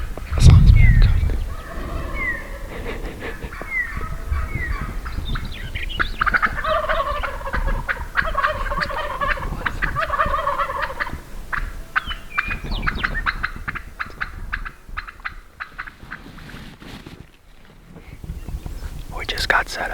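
Merriam's wild turkey toms gobble repeatedly outdoors in a string of loud, rattling calls over several seconds. Soft whispered talk and faint rustling run beneath, then things fall quieter toward the end.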